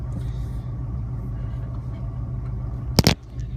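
A 1948 Cadillac idles with a steady low engine rumble close by, then a sharp brief clatter near the end as it starts to pull away.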